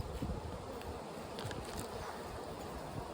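A honey bee colony drones in a dense, steady buzz as the nest is opened, a continuous close swarm hum with no voices.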